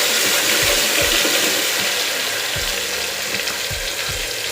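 Ginger-garlic paste sizzles steadily in a hot pan while being stirred, a continuous frying hiss with intermittent low scrapes and knocks of the spoon against the pan.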